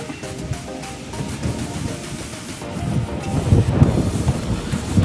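Thai express train 607 rumbles past nearby on the Chonburi line under a motorway bridge, a low rolling roar that swells toward the end, mixed with wind buffeting the microphone.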